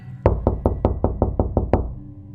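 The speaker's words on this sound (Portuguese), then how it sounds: "O som dos nós dos meus dedos contra a madeira parecia um tiro no silêncio da noite" Knuckles rap on a wooden door at night: nine sharp, close knocks in a quick, even rhythm, each with a short wooden thud, then quiet.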